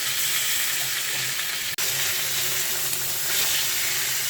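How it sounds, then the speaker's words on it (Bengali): Tilapia fish frying in oil in a pan, a steady close hissing sizzle that runs throughout, with a brief break partway through. "একটা পাশ হালকা ভাজা হয়েছে"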